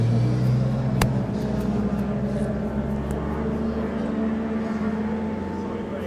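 An Equipe Elan 26R race car pulls away at Silverstone, its engine a steady, loud low rumble that holds for several seconds amid a voice and background noise.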